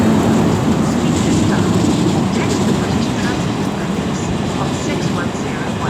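A Class 90 electric locomotive-hauled train rolls slowly through Milton Keynes Central station on the West Coast Main Line, giving a loud, steady rumble and broadband roar that holds for several seconds.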